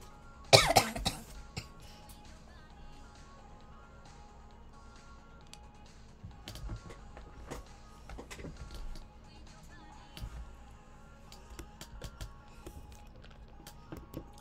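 A single loud cough bursts out near the start, then only faint room noise and scattered small taps during a livestream gaming session.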